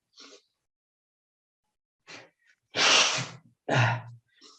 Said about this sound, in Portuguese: Desculpa que eu vou precisar espirrar.